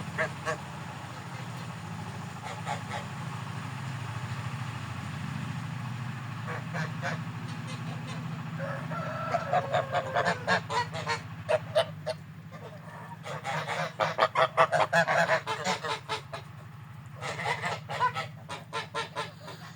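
Big Grey geese kept in a flock honk, starting sparse and quieter, then breaking into repeated loud bursts of overlapping calls in the second half.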